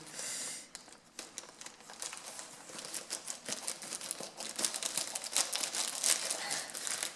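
Crinkly plastic and paper packaging from an AliExpress order being torn and unwrapped up close, a steady stream of rustling and crackling with sharper rips throughout.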